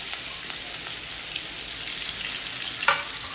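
Sliced onion and curry leaves fry in hot oil for dal tadka, a continuous close sizzle with soft crackles and a brief sharper clatter near the end, no one speaking.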